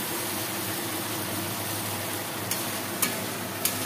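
Spice masala frying in oil and being stirred in a pan, heard as a close, steady sizzle and crackle throughout, with a few sharp clicks of the spoon near the end.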